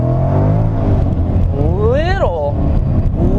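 A supercharged 650 hp 2015 Ford Mustang GT accelerates hard in first gear around 3,500 rpm, its engine droning loud and close with a rising whine sweeping upward midway, while someone talks over it.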